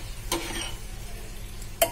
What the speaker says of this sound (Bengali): দই দিয়ে আমি ভালোভাবে মিলিয়ে দেব।